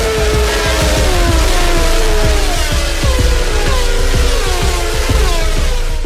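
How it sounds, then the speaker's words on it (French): A pack of 1992 Formula 1 cars roars past at the start of the Belgian Grand Prix at Spa, engines screaming loud and close with rising pitch sweeps as cars pass in quick succession. "Senna passe en tête le virage de la source et les 25 bolides foncent vers le raidillon"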